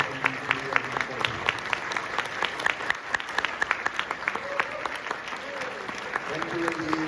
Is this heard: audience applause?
yes